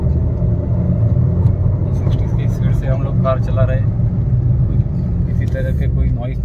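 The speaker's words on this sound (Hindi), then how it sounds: "60 की स्पीड से हम लोग कार चला रहे हैं" A Maruti WagonR K Series car cruises at about 60 on a paver-block road, with a steady low engine and road rumble under someone talking throughout.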